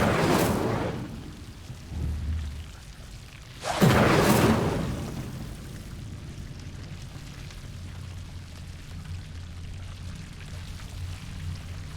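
Incendio fire spell bursts in Hogwarts Legacy: two loud whooshing blasts, the second a roaring eruption around four seconds in, trailing off into a low rumbling ambience.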